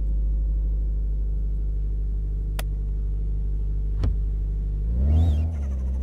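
Junkyard Lada Niva engine idling with a steady low rumble, close and continuous, rising briefly near the end as it moves off, with two faint sharp clicks earlier.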